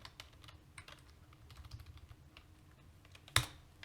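Computer keyboard keys tapped while entering HTML code, a steady run of light clicks throughout with one sharper, louder keystroke near the end, close and alone with no voices.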